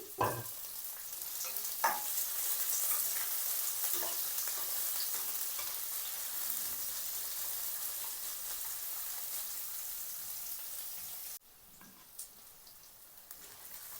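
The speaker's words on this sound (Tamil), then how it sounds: "இதோட வெட்டி வச்சுக்கிற வெங்காயத்தை சேர்த்துக்கொள்ளுவோம் இந்த வெங்காயம் கொஞ்சம் வதங்கி வரட்டும்" Chopped onions sautéing in a pan for a capsicum curry, a steady even sizzle with a couple of stirring knocks, easing briefly near the end before crackling on.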